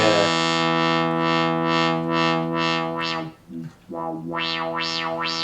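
Sustained, buzzy polyphonic chords from an ARP Omni 2 analog synthesizer hold steady, then briefly dip before returning as wobbling, vibrato-laden tones that sweep up and down.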